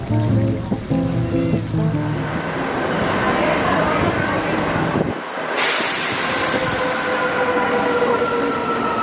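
A train in Italy rumbles and rattles steadily along the tracks, with a brief dip midway and a faint high squeal near the end; no one speaks.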